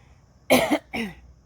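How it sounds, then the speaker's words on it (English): Two dry coughs in quick succession, close and fairly loud, with a short pause between them and quiet before and after. "I get this dry cough"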